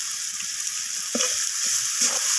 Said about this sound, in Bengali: তো রসুনটাকে দিয়ে আমি টমেটো পেঁয়াজের সাথে এইভাবে নাড়াচাড়া করে নিচ্ছি